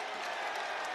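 A basketball crowd at a college game between SMU and Virginia Tech cheers and applauds, a brief, steady, fairly distant roar.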